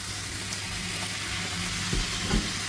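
Pea sprouts tossed into a pan of softened frying onions sizzle steadily, with a continuous hiss and a couple of soft stirring bumps near the end, close and with no talking.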